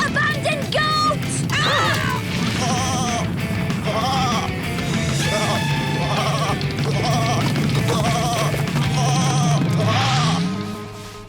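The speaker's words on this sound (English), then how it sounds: "Abandoned goat!" Repeated wavering bleats from an animal on a mountain, several calls in a row over a steady background of music or ambience, fairly loud and close, with a rising sweep near the end.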